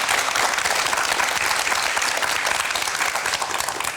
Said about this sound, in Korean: 격려의 박수 보내드릴까요?